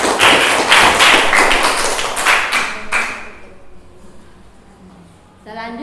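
Classroom of students clapping for a classmate, a burst of loud close handclaps for about three seconds that quickly dies away to quiet room tone, with a voice starting at the end.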